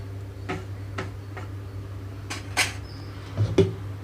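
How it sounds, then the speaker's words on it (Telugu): A lid is set on a cooking pan of spiced amaranth leaf fry, heard as faint ticks and taps followed by a couple of soft metallic clunks near the end over a low steady hum. "కారం అంతా వేసిన తర్వాత మూత పెడుతున్నానండి"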